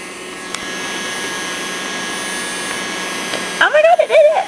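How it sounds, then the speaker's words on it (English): A Henry desk hoover, a mini vacuum cleaner running on batteries, gives a steady whirring drone for most of the clip. A voice speaks over it near the end. "That's more like a Hoover sound."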